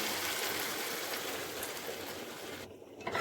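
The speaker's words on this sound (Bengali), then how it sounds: "এবারে আমি এখানে একটু সামান্য পরিমাণে জল অ্যাড করব। দিয়ে দিচ্ছি একটু জল।" Water poured into frying masala for an eggplant curry, a steady rushing hiss and bubbling splash that fades slightly near the end, close and alone.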